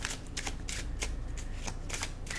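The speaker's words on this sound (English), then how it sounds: "This is a pretty thick deck, so I tend to have a little difficulty shuffling this one neatly" A thick deck of tarot cards being shuffled, with rapid crisp riffling bursts repeating in quick rhythm, close and fairly loud, with no talking.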